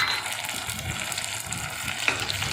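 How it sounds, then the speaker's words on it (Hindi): Tomatoes with garlic and green chili frying in a pan for an aloo palak dish, a steady dense sizzle with faint stirring scrapes, close and continuous throughout. "टमाटर की भुनाई अच्छे से करें।"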